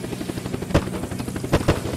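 A helicopter's rotor chops loudly and close by in the video game Unturned, a rapid whirring beat broken by a few sharp, brief impact bursts.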